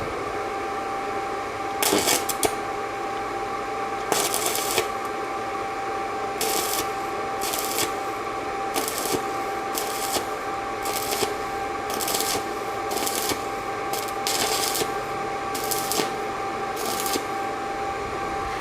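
A Pumpkin PTT-MIG120 welder lays MIG beads with fresh wire, making short, harsh crackling bursts that start and stop repeatedly over a steady background hum, with no talking.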